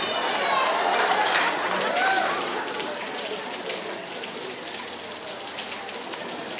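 Rain falling steadily at an outdoor high school graduation ceremony, a dense even hiss of drops on surfaces that eases slightly partway through, with no talk over it.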